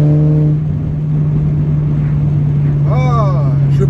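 An Audi S3 with a noise fault that shows only when the car rests on the ground: a steady engine drone with a strong low hum, rising briefly in pitch as it revs, under someone speaking.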